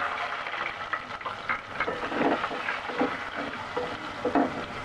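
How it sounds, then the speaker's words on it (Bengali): Three cut potatoes frying in oil over medium-low heat for a beef bhuna, a steady close sizzle with occasional stirring scrapes and bubbling bursts, no talking. "ওই তেলে এবার আমি আলুগুলো ভেজে নিব"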